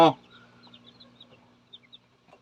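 Ornamental bantam chickens clucking, a sharp loud squawk at the start followed by soft, scattered clucks and chirps that trail off, with a faint burst near the end.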